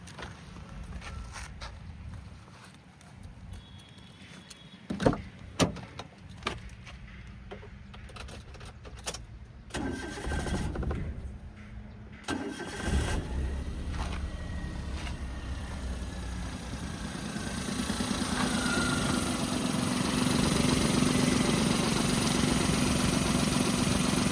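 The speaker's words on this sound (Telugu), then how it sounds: "ఒక్కసారి ఇంజన్ అనేది ఆన్ చేసి చూపిస్తాను చూసుకోవచ్చు" A 2012 Maruti Suzuki Alto LXI petrol car: keys jangle and clicks sound, then the small engine cranks, catches and settles into a steady, smooth idle that continues to the end.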